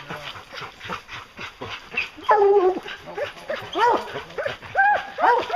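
Bear hunting hound barking in repeated sharp bursts with yips and whines, close and loud in an uneven rhythm, with faint voices around it.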